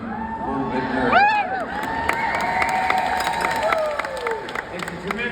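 A school district crowd cheers and applauds, sustained clapping and shouts mixed with whoops, loud and fairly close throughout.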